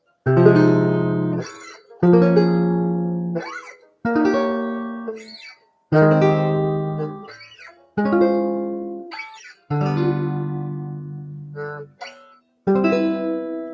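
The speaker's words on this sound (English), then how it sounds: "we could do all of those chords as, let's say, second inversion" Guitar chords voiced in second inversion, with the fifth in the bass. Seven strummed chords ring out clearly at roughly two-second intervals, each one decaying before the next, with no talking.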